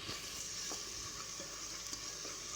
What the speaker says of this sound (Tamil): மிளகாத்தூள் எண்ணெயிலே போட்டுக்கோங்க.